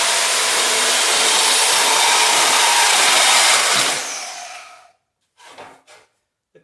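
Large-diameter dust collection duct pipe being cut gives a loud, steady broadband rasp for about four seconds, then fades out, with a few short scraping bursts after it, close up and with no talking.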